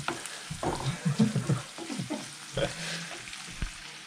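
Sausages sizzle as they fry for breakfast on a winter mountain trip, with a steady crackle and spatter rising and falling in short bursts, fairly close and with no talk over it.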